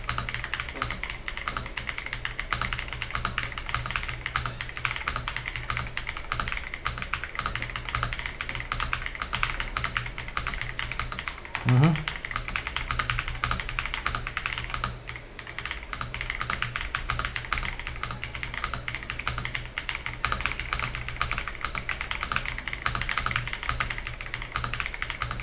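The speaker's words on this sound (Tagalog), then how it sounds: "keyboard typing speed, check natin. Kung magaling ba tayo mag-type sa keyboard na to." Typing on a KZZI K75 Pro mechanical keyboard: a steady, dense stream of close keystroke clatter that runs unbroken for the whole stretch, with no speech.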